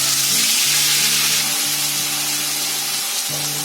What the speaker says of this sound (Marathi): आता पेस्ट आपल्याला ना चांगली कलर येईपर्यंत फ्राय करायचं आहे